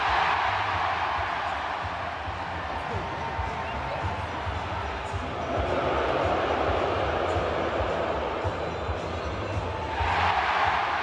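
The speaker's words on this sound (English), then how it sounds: "the crowd goes from booing the Vancouver fans to cheering for George" A large hockey arena crowd roars and cheers at Little Caesars Arena during a Red Wings game, a dense, sustained wash of voices that swells near the end, with announcer speech over it.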